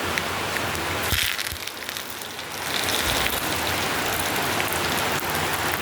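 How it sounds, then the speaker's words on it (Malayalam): Heavy rain pours down outside a kitchen, loud enough to drown out mustard seeds popping in a pan. A dense, steady hiss fills the whole stretch, swelling slightly partway through, with no voices. "കടുക് പൊട്ടുന്നൊന്നും കേൾക്കുന്നേ ഇല്ല. അങ്ങനത്തെ മഴ."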